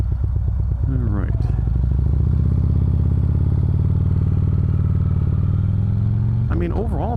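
A 2013 Harley-Davidson Road King CVO engine idles nearby with a loud, steady low chugging pulse, while someone talks over it briefly at the start and end.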